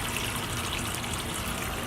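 A water pump circulates shallow water through a tortoise enclosure, giving a steady, unbroken trickling wash that stays even and close throughout with no voices.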